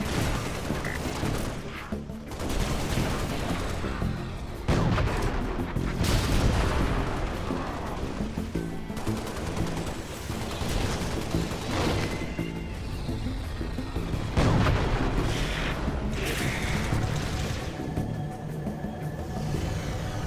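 Sustained gunfire and explosive booms from the video game Halo: Spartan Strike, a dense, steady barrage of shots with heavier blasts scattered throughout.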